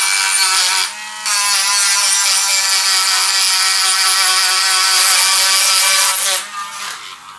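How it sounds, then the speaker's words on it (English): A small grinder whines steadily as it grinds down a battery negative terminal for an 18650 upgrade on a Commander Electric, the harmonic tone dipping briefly around the first second and trailing off near the end. "I'm gonna use my little grinder"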